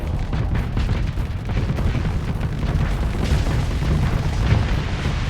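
Rockets fire and explode in the space combat game Starsector, making a dense, loud, continuous roll of booms and bursts with rumbling low end and no let-up, and no talking.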